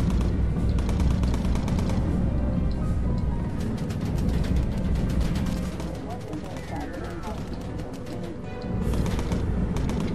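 Gunfire in the Bomber Crew game, rapid machine-gun bursts rattling steadily and loudly over a dense engine drone, continuing almost without pause, with a voice talking over it at times.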